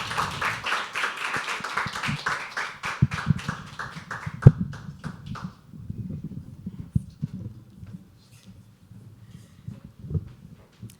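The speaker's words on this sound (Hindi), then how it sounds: "और जोरदार तालियां होनी चाहिए उनके लिए" Applause from the audience at a live poetry open mic, as a dense burst of clapping that thins into scattered claps and then dies away, leaving soft room murmur.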